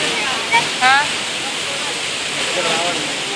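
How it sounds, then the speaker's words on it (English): Water jets and a geyser in a resort fountain area rush with a steady, loud, close hiss of falling and spraying water. The rush is broad and continuous, with a faint voice-like trace briefly audible. "Over to my left, the fountain area, 106 water jets, and 1 geyser"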